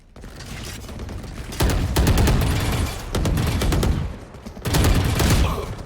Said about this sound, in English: I really like the sound of this Vandal.